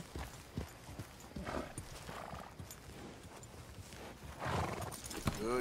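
Horse hooves clip-clop steadily in Red Dead Redemption 2, with a whinny rising near the end over faint game ambience.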